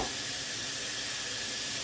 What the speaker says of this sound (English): Now to let the steam out.